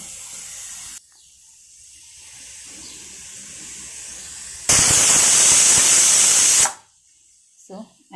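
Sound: pressure cooker whistling and releasing steam

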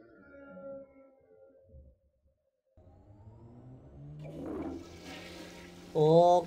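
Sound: toilet flush

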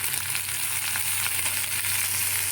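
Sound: pumpkin frying and stirred over low heat

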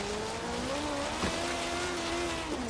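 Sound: cars driving in the video game Forza Horizon 3

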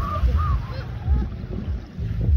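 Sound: ducks on the water

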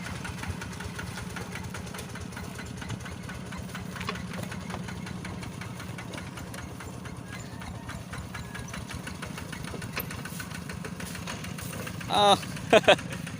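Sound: truck engine shifting gears while hauling wood uphill

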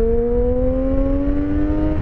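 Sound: Triumph Street Triple 675 three-cylinder motorcycle engine revving

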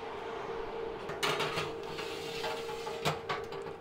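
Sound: MIWE gusto:snack oven door opening, perforated tray of eggs placed

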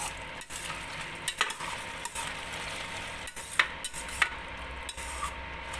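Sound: stirring mushroom gravy with coriander in a pan

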